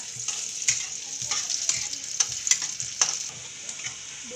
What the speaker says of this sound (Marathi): तेल टाकते आहे मी आता कांद्यांमध्ये, त्यांना थोडेसे लाल होऊ द्यायचे अजून